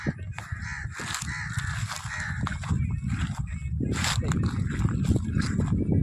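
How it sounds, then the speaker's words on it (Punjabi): Crows caw repeatedly while circling above open farm fields, harsh calls coming in scattered bursts at moderate distance over a steady low outdoor rumble, with faint talk in the background. "ਉੱਪਰ ਕਾਂ ਵੀ ਮੰਡਰਾਉਂਦੇ ਪਏ ਆ"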